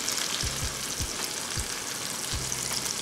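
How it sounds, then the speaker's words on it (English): Onions and mushrooms sauté in a hot pan for a hamburger steak and gravy dinner, giving a steady, dense sizzle with a few soft low thumps from stirring underneath. "it's time to saute those onions and mushrooms"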